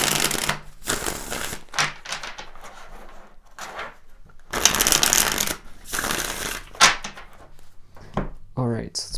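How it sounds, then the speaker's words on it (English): Tarot cards are shuffled and pulled from a deck in close bursts of riffling and slapping, with short pauses between them, and a voice speaks now and then. "let's pull some tarot cards here"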